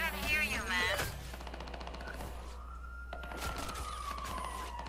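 Police sirens wail in Watch Dogs 2, a rising and falling tone that swells in the second half, with bursts of gunfire and game effects around it.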